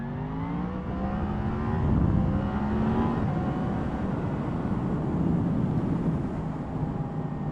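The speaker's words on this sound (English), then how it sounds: "Lots of bikes out." Motorcycles roll past on a road on a Sunday ride, a steady broad engine roar with a rising surge partway through, continuous and fairly close throughout.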